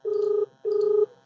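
A telephone rings in two even bursts with a short gap between them, close and clear, with no talk over it.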